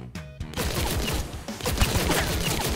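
In the mobile battle royale game Omega Legends, a brief rocket launcher burst is followed by a dense, loud barrage of rapid explosive firing that continues steadily to the end.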